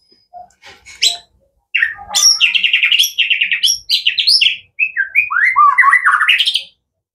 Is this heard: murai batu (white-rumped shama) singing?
yes